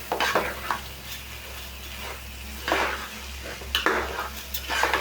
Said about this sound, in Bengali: এখন একটু ভালো করে ভাজবো।